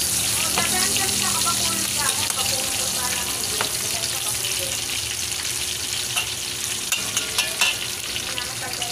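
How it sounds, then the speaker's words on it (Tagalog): Garlic and onion sautéing in a pan for pork igado, a loud, dense sizzle close by with constant scraping and stirring clatter over the whole stretch. "gisahin na natin ang ating bawang, ang sibuyas,"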